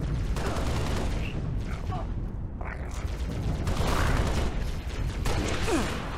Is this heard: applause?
no